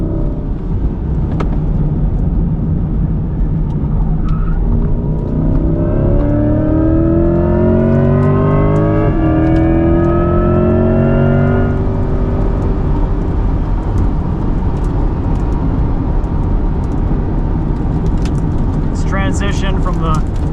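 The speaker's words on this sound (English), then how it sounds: "That electric motor whine kind of sounds like a supercharger." A 2024 Chevrolet Corvette E-Ray at speed on a race track gives a rising electric motor whine over steady loud engine and road roar, with someone talking throughout.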